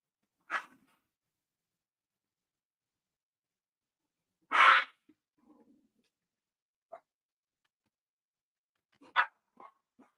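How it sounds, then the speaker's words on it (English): Two dogs indoors, the smallest barking at the biggest, let out a few sharp separate barks with long silent gaps between them and some soft huffing sounds. "That's the smallest dog in the house, barking at the biggest dog in the house."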